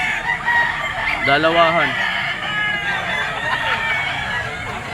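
Young roosters, or stags, at a poultry seller's, with one clear crow rising and falling over a steady din of clucking fowl and background noise, plus a brief word spoken.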